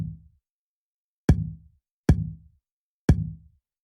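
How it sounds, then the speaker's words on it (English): Future bass kick drum sample made in FL Studio, three punchy isolated hits with a short boomy tail, evenly spaced after a faded first tail, dry and alone. "So the kick sounds like this."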